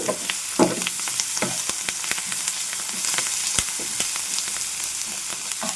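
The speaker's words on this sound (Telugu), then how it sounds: "కాస్త పసుపు వేసాను కాస్త అల్లం వెల్లుల్లి పేస్ట్ వేసాను ఇవన్నీ కూడా మళ్ళీ ఒకసారి తిప్పుకోవాలి" Turmeric and ginger-garlic paste fry in a pan for a sweet corn and carrot masala curry, a loud bright sizzle punctuated by quick irregular scrapes and taps of a spoon stirring.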